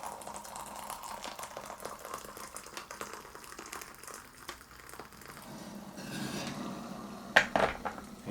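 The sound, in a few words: pouring boiling water for hummingbird food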